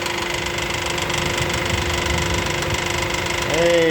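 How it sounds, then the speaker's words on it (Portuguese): A car's air-conditioning compressor bearing makes a steady, loud mechanical whirring and knocking hum close up, continuous and even throughout, with a brief rise near the end. "Olha só o barulho do ar-condicionado do cara que é."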